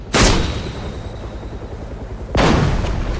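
Two loud, sharp gunshots ring out at a virtual firing range in a PSVR2 game, one at the start and one about two seconds later, each followed by a lingering rumbling decay.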